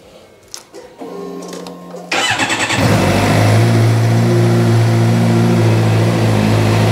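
A Suzuki GSXR600 motorcycle cranks and catches, then settles into a loud, steady idle close to the mic after a few seconds of quieter clicking and priming noises.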